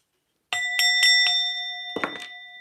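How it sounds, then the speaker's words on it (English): A ringing bell is struck four times in an even rhythm, then twice more in quick succession. Each clear metallic tone rings on close and fairly loud, with no talking. "I'm gonna hit the bell."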